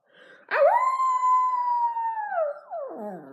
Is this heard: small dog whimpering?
yes